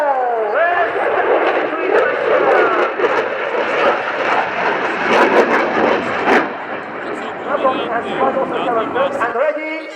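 A powerful aircraft engine roars at the RIAT 2017 Fairford airshow, a loud, sustained drone with rising and falling whine as the plane rolls overhead, with an announcer talking over it.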